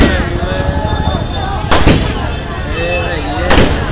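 Firecrackers explode in loud, sharp bangs, two distinct cracks a couple of seconds apart over a continuous crackling roar, with a voice talking underneath.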